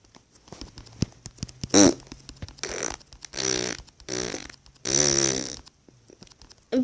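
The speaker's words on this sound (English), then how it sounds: "I'm farting on her." Cartoonish fart noises from a survival wilderness video game, several separate bursts spread over a few seconds, fairly loud with quiet gaps between them and no talk.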